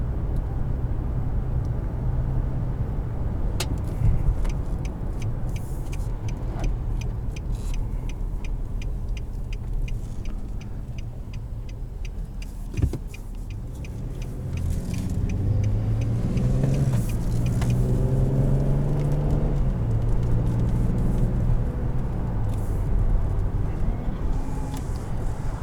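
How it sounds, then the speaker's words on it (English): A 2020 Nissan Frontier SV's 3.8-litre V6 runs steadily from inside the cab, a low continuous hum that swells and climbs in pitch toward the end as the truck accelerates. "Very, very nice sounding 6-cylinder."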